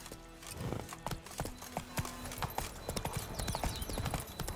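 Roach the horse trots in The Witcher 3, a brisk close clip-clop of hooves in a steady rhythm with a brief snort or whinny in the mix.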